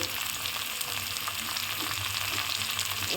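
Chopped chilli and ginger sizzle in hot oil for a tadka, a steady, close frying hiss that holds evenly throughout without talk.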